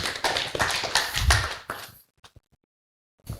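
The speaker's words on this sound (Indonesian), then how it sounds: "tepuk tangan buat Pak Chandra" Audience clapping for Pak Chandra at an Indonesian motivational talk, a dense burst of claps lasting under two seconds, then a few scattered faint claps and near silence.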